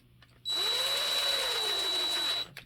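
Cordless power drill snugging down screws on a 2-speed transmission for a Traxxas TRX4 RC truck gives one steady, close whine of about two seconds, its pitch sagging slightly as the screw tightens.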